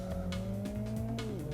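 A Mini in the racing game Live for Speed pushes through a hot lap from a standing start, engine droning and shifting pitch while tires squeal in long, close, loud skids.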